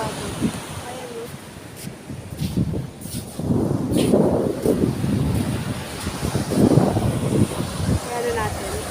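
Strong wind and surf at La Union beach in Pangasinan, a loud, steady roar of gusts buffeting the microphone with waves surging in swells, and voices talking over it.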